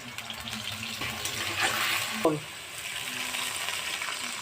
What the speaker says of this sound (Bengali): এভাবেই সব বড়া ভেজে নেব।